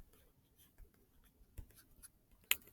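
Pen or marker writing notes for a math lesson on dot plots, faint soft scratching strokes at a steady pace in a quiet room, ending with one sharp tap near the end.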